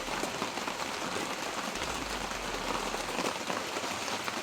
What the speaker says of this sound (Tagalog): Ulan ba?